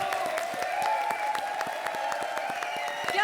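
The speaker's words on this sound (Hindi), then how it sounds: "जोरदार तालियां" An audience on a television comedy stage show claps in a steady rhythm. The loud, even beat of clapping runs throughout alongside music.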